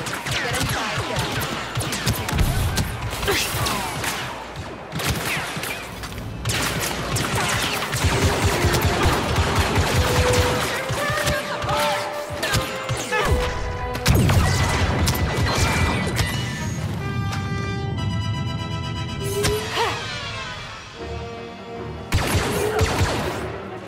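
Rapid blaster fire crackles in a Star Wars Battlefront II battle, dense overlapping shots and impacts with mechanical whirs, loud and continuous throughout.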